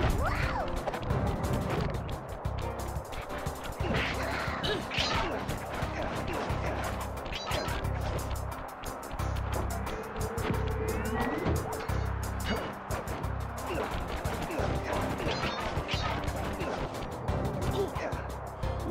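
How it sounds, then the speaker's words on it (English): Fireworks exploding in the Sly Cooper video game, a loud, dense barrage of crashing bursts that continues without a break, with a voice talking over it at times. "Look at that, the fireworks."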